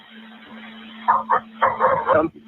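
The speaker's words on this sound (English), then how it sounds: "Dogs are barking" Dogs bark in several muffled, tinny bursts, heard as if over a telephone line with a steady low hum beneath.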